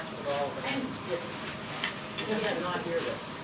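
A chemistry demonstration sizzles and hisses steadily after water is dumped in, with crackling bursts throughout and faint voices in the background.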